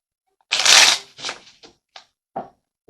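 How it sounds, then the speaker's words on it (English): Tarot cards being drawn and shuffled, a loud riffling burst followed by several shorter, separate card snaps and slides, close by with no talking. "So let's get a card over here and see what's going on."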